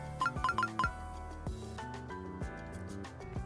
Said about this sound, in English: A notification sound emits from Arcana's phone.